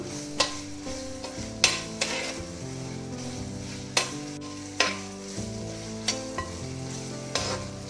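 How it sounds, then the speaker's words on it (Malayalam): Mixed vegetables and green peas sautéing over a high flame for veg biryani, a steady sizzle broken by sharp scrapes and clinks of a spoon stirring the pan every second or so, with no talking. "ഈ ഒരു അല്പസമയം ഹൈ ഫ്ലെയിമിൽ ഇതൊന്ന് ഇങ്ങനെ വഴറ്റി കൊടുക്കണം"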